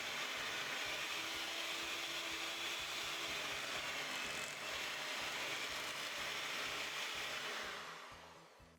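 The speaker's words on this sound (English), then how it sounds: "then we'll increase our speed to high and beat it again for another 1 to 3 minutes" An electric mixer beats cookie dough at high speed in a bowl, a loud continuous whirring drone with a rapid rattling pulse from the beaters, close and alone before winding down at the end.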